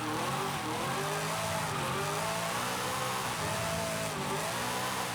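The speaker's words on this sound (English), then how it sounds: "That V8 is just majestic." A V8-powered drift car in Forza Horizon 5 roars at high revs with tires squealing, a loud, continuous engine howl that rises and dips as it slides, with no voices over it.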